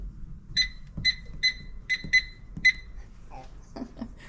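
A kitchen microwave timer beeps six times in a steady rhythm, each a short, clear, high electronic tone. Faint kitchen sounds follow the beeps.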